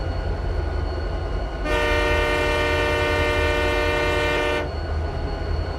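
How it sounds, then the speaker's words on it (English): A Canadian Pacific freight train horn in the video game RO-Scale Sandbox blares in one loud, sustained chord lasting about three seconds over a steady rumble of rolling train noise. "Let's hear the sounds of the horns of those trains"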